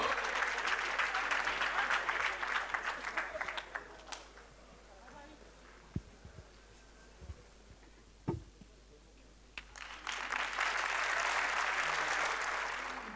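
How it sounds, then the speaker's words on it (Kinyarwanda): Audience applause welcoming Minister Jado Uwihanganye at a live event, a sustained broad clatter at the start that fades into quieter room noise with a few sharp knocks, then swells back to full clapping near the end. "Ladies and gentlemen, amashyi cyane twakire minister wacu Jado."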